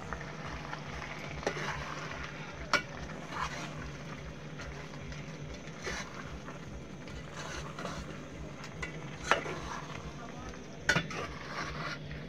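A spoon stirs chicken stew in a pot with a steady scraping and sloshing, a low sizzle underneath and occasional sharper clinks against the metal.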